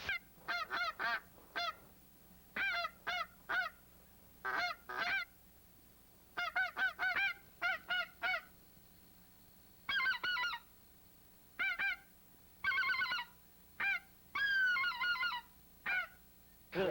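Geese honking during a goose hunt, repeated bursts of several sharp honks in quick clusters separated by short pauses, fairly clear and alone over a faint low background hum.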